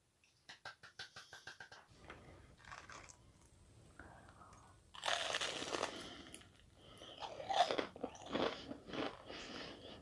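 Crispy fried shrimp tempura crunched up close, with loud crackling bites and chewing that come after a run of quick taps and soft handling noises.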